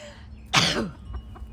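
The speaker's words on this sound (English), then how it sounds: "you'll have to do with my sneezing and the wind" A single short, explosive sneeze close up, followed by faint background noise.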